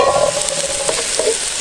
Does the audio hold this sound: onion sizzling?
yes